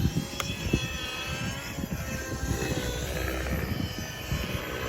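A model aircraft mounted on a Mikado flight trainer comes in to land. Its engine whines steadily and close by, with a slight wavering rumble underneath.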